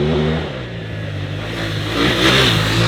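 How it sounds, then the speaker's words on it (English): A BMW F900GS motorcycle with a standard Akrapovic exhaust runs at steady high revs, giving a loud, continuous, raspy engine drone with no speech over it. "It also has an Akrapovic can as standard, which has the sharp-toothed bark of a motocrosser."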